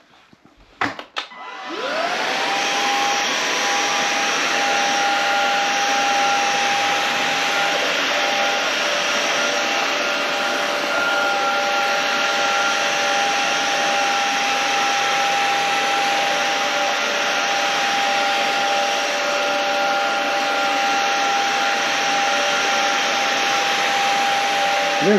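An Inse cordless vacuum cleaner starts up and runs steadily on a bedroom rug, a loud continuous whine with a high tonal hum held for the whole stretch, no talking over it.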